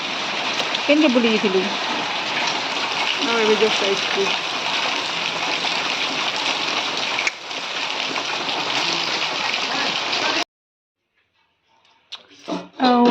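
Heavy monsoon rain pours down steadily outdoors in a continuous loud roaring hiss, with people talking over it, before it cuts out abruptly and speech continues near the end.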